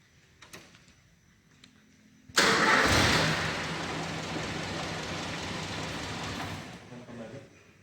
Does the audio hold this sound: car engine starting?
yes